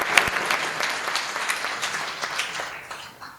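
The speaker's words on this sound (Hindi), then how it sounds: "भाई रसिक गुप्ता का बहुत जोरदार तालियों से स्वागत करिए।" Audience at a poetry recital in Etawah applauds to welcome the poet Rasik Gupta: a dense, steady wash of many hands clapping close by, with no voices over it, tapering slightly at the end.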